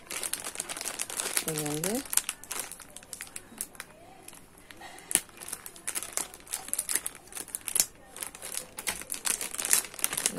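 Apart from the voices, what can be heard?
opening a crinkly package of beads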